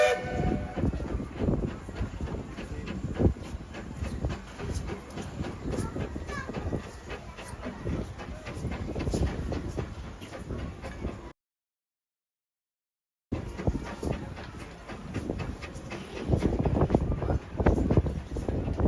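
Disneyland Paris Railroad steam train running with rumbling and clattering cars, brief gaps and a short silence midway, and faint voices and a dog barking in the background.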